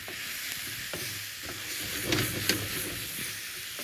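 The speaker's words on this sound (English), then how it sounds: "always let spices hit the pan, the oil, and let them heat and bloom before you add any moisture" Spices sizzle and bloom in hot oil in a pan while making saag aloo. There is a steady, close frying hiss with a few brief crackles and pops, and no voices over it.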